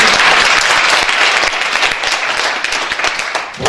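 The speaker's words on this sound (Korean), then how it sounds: "박수 치셔야 됩니다." A lecture audience breaks into dense, sustained applause that stays loud and even throughout, with no voices over it.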